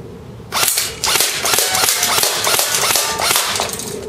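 A G&P Magpul MOE PTS airsoft rifle fires semi-automatic at a can: a quick series of sharp, close, loud cracks in an uneven rhythm, with hard noise between the shots.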